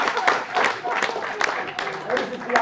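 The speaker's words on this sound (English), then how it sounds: "This is the academics clapping" Academics at a library event clapping, a crowd's applause rising and falling in uneven surges, fairly close and loud, with voices mixed in beneath the clapping.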